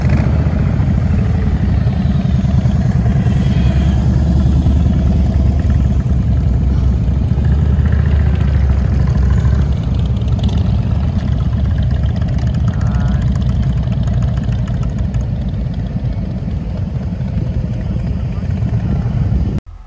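Motorcycles belonging to a passing bike gang idle close by, a loud, steady engine rumble that holds without pause for the full twenty seconds.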